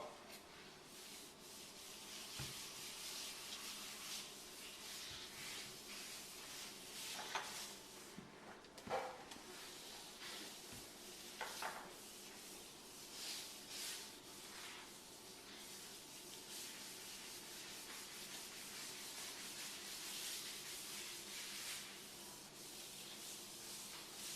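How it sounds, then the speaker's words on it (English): Granite sealer is rubbed by hand along a countertop edge with a soft, continuous scrubbing swish and a few faint knocks, close and quiet, with no talking. "just squirt it into your hand and then rub it along the edge"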